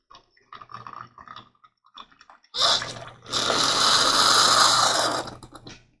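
A handheld portable electric K-cup coffee press gives a few faint clicks, then a loud motorized buzzing whir lasting roughly three seconds before it stops.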